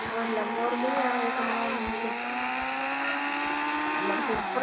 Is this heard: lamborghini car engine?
yes